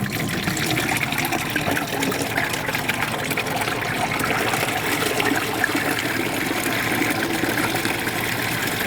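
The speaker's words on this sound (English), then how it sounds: "Now I'm going to slowly open the handles and start draining each side." Water draining from both sides of an Electro Freeze SL500 soft-serve machine into a held bucket, a loud, constant gushing trickle with no talk.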